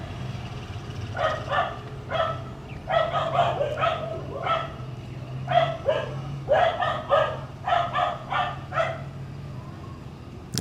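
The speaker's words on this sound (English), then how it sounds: "I'm gonna see if I can wait for these dogs." Several dogs bark repeatedly in irregular bursts at moderate distance, sharp clustered woofs spread across the stretch over a steady low background hum.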